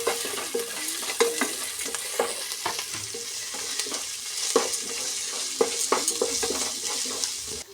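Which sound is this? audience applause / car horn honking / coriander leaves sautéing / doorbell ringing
coriander leaves sautéing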